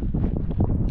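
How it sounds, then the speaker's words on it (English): Wind blows across open desert sand dunes at an outdoor nature preserve, a low, rough, continuous rumble buffeting the microphone, with no voices. "It's not very windy, but because of the open space, I think it's a kind of air is blowing."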